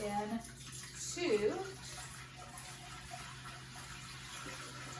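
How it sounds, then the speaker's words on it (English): A gallon of water is poured into a pot for home beer brewing, a soft continuous splashing and gushing that stays fairly quiet and even for several seconds. "we're going to pour a gallon of water"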